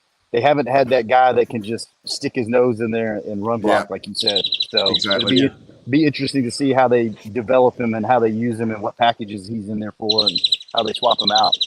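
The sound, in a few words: birds chirping in the background in Dallas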